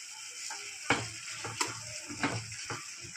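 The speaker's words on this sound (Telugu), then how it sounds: "ఇప్పుడు వేగినాక ఒక ఆనియన్, కట్ చేసిన ఆనియన్ వేస్తున్నా." Chopped onion frying in a pan with tomatoes and garlic for tomato coriander chutney: a steady soft sizzle with a few sharp clinks and stirring scrapes scattered throughout, close and moderately quiet.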